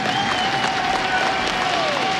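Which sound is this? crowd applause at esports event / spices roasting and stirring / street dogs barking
crowd applause at esports event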